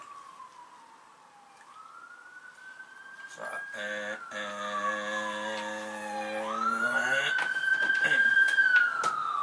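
A wailing ambulance siren rises and falls over several seconds, joined by a second siren and a deep horn, growing louder as a person talks briefly.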